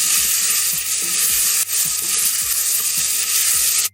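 Marinated chicken hits onions and garlic paste frying for chicken biryani, giving a loud, dense, constant sizzle up close, punctuated by rhythmic low thuds of a spoon working the pan.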